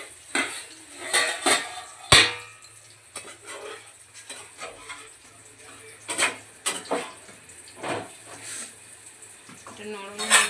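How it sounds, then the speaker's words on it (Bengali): A metal lid clanks sharply against a cooking pot while drumstick chorchori cooks, a single bright clatter among softer utensil and dish knocks and faint kitchen background. "আমি ঢাকনাটা নামিয়ে দিচ্ছি"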